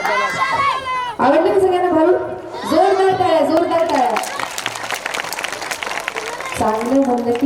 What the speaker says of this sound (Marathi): जोरदार टाळ्या, जोरदार टाळ्या.